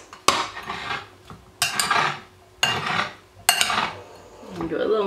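Lime juice and salt dressing is mixed in a bowl, with four sharp knocks of a utensil against the dish, each followed by a short scraping stir.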